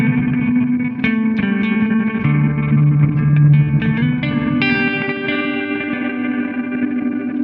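Walrus Audio Fable granular soundscape pedal run in a guitar amp's effects loop, sustained guitar chords smeared into a dense, reverberant, slightly distorted ambient wash with shifting chorused layers, loud and continuous throughout.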